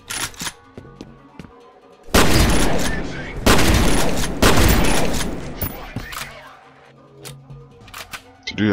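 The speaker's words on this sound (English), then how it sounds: "It's a shotgun or?" Shotgun blasts in the F.E.A.R. shooter game, a series of loud close bursts of gunfire with a few gaps between them, amid sharp clicks and game sounds.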